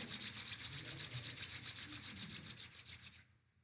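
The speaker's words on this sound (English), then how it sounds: "Now rub your both palms." Palms rub briskly together in a fast, even back-and-forth rhythm of about two dozen strokes, close and soft, fading out at the end with no talk.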